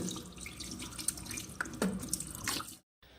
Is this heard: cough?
no